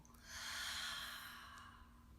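A single slow exhale through the mouth in yoga breathing, a soft close sigh of air swelling and fading over about two seconds, faint and alone.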